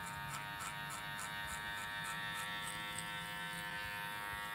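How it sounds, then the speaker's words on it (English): An electric hair clipper buzzes steadily and close up while trimming a boy's hair, holding a continuous hum with a faint rhythmic pulsing as it is rocked through the hair. "by rocking out the clipper like this, I'm making the line a little bit softer"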